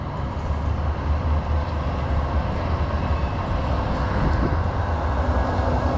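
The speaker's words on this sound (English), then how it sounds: "You get to see the wonderful Sheffield Super Tram." A Sheffield Supertram rumbles past nearby with a steady, broad low roar and faint squeal, continuous throughout.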